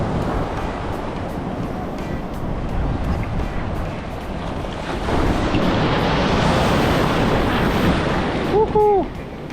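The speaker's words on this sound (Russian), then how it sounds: "Вот периодически такие волны здесь присутствуют." Ocean waves breaking in a bay on a large Mexican beach, a continuous loud surf wash that swells midway, with a brief high tonal sound near the end.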